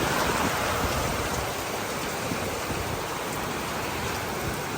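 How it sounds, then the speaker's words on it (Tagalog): Sudden heavy rain pours down steadily, a dense, loud wash of drops beating on surfaces with no break, close and constant throughout. "Lakas ng ulan."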